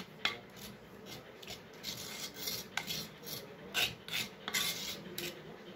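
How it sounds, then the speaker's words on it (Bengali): Soft, irregular scraping and rubbing as yogurt is smeared around the inside of a clay pot, with faint clinks of a utensil, close and quiet, no talking. "মাটির হাঁড়ির চারিদিকে আমি দইটাকে খুব সুন্দরভাবে মাখিয়ে নিয়েছি"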